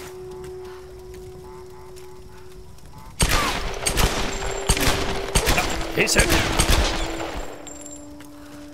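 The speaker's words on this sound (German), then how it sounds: "Okay, ich habe ein paar Schuss gebraucht, um Häschen zu killen." A rapid volley of Tomb Raider gunshots, loud and sharp, firing in quick bursts over several seconds at a rabbit, with a brief spoken remark before them.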